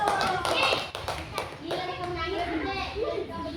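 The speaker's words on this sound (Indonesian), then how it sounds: "kasih tepuk tangan dulu" A classroom of children gives a short burst of clapping during a teaching practice lesson, the claps mixing with lively children's chatter and voices.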